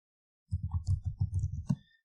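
Rapid run of mouse clicks and keyboard typing while entering text in CorelDraw, a dense rhythmic burst of about a dozen close, soft clicks lasting just over a second, ending on one sharper click.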